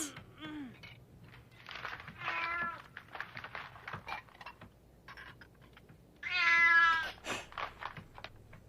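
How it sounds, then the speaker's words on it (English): A cartoon cat meows several times, with short calls early and a louder, drawn-out meow near the end, between light clicks and quiet pauses. "What? A cat?"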